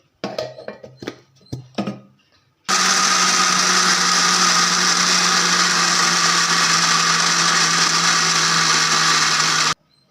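A mixer grinder whirs loudly and steadily, grinding grated coconut for coconut dosa batter, running about seven seconds after a few light clinks and knocks, then stopping abruptly.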